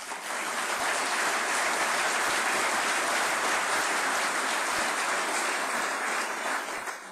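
A large audience applauds at a State of the City speech, a steady, full wash of clapping that holds evenly for about seven seconds without talking.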